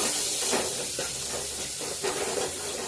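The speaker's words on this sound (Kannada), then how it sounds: "ಚಟಪಟ ಸೌಂಡ್ ಕೇಳ್ತಾ ಇದೆ" Onions frying in oil over a lowered flame, a continuous close hissing sizzle with soft pulsing crackles, no talking.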